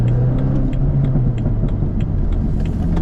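A salvage BMW Z4 pulls hard from inside the cabin, a steady low engine rumble with road noise filling the whole stretch, loud and continuous with no talk.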